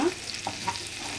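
Chicken pepper dry fries in a pan with a soft, steady sizzle and faint crackles for a brief moment, with no talk.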